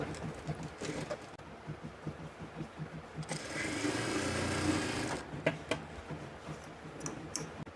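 A sewing machine stitches the neckline of a kameez in a short continuous run of rapid, steady mechanical ticking, framed by quieter handling clicks and fabric rustle before and after.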